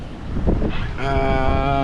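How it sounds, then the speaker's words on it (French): Wind buffets the microphone aboard a small sailboat at sea, a loud steady rush with a tonal hum rising partway through, no one speaking. "Un petit vent sympa sur mon petit bateau."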